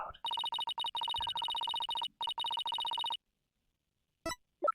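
A phone rings in an Ace Attorney: Spirit of Justice play session: a rapid electronic trill in repeated bursts, loud and close, which stops abruptly, followed by a few faint brief sounds.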